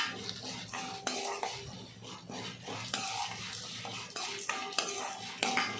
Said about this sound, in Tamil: காரத்துக்கு தகுந்த வரமிளகாவும் போட்டு நல்லா நம்ம வறுத்துக்கலாம்